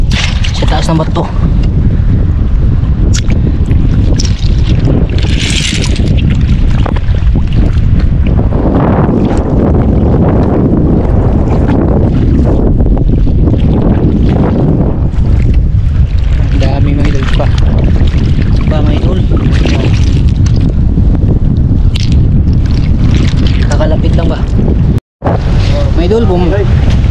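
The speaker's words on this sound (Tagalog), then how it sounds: "Grabe yung hangin mga idol, magupit talaga." Strong sea wind buffets the microphone on a small boat, a loud continuous roar with gusting surges and low rumble, with someone talking intermittently over it.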